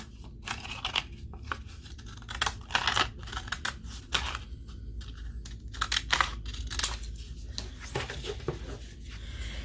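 A card being trimmed down to size with scissors, quiet irregular snips and paper rustles close by, with soft handling noises between cuts.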